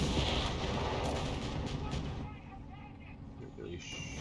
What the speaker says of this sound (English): there was some kind of barrage